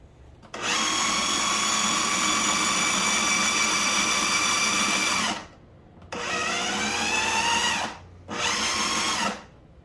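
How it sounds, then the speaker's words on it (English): A food processor pulses chickpea hummus with roasted red pepper and garlic: a loud, steady whirring motor in one long run of about five seconds, then two shorter bursts with brief pauses between. "get this going in the food processor to start. Gonna pulse it."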